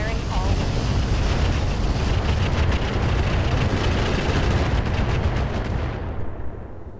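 A mech in the video game Roguetech unloading all weapons at once, a loud continuous roaring barrage of overlapping blasts and rushing noise that holds for several seconds before easing off at the end.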